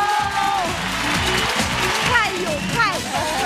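Studio audience clapping and cheering as guests walk onto a talk-show stage, a loud sustained wave of applause with bright whoops and music-like tones sliding above it.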